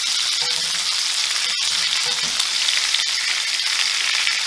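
Bone-in pork chops searing in a cast iron pan give off a loud, steady, close sizzle that runs unbroken, with faint small knocks and no voices.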